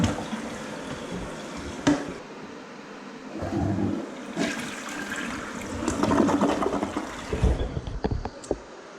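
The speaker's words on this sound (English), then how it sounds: "Let's see how this thing flushes." A newly installed TOTO toilet flushes with a loud rush of swirling water that swells and drains, followed by gurgling and refilling, heard up close in a bathroom.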